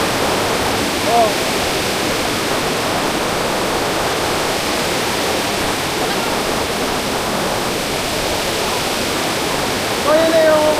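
Wild river water rushing over rocks at an eco-tourism area, a steady loud broadband roar that fills the whole clip without pause, with no talk.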